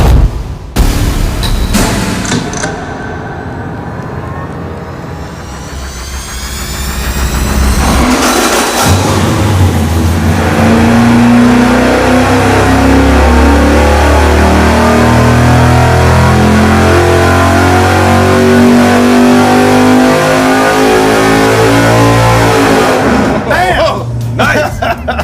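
V8 race engine with a solid roller camshaft revving hard on a dyno, a brief blip and pause before a long rising pull to high RPM, loud and close, then cutting off; people talk over the start.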